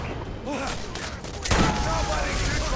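Rapid bursts of gunfire in the video game Borderlands, loud and close, with a dense volley surging midway and continuing under a faint voice.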